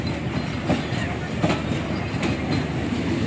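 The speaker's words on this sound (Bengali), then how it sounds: "এখন তুমি ট্রেন দেখো" Loud rumble of a passing train with repeated clacking of wheels over rail joints, continuous and near.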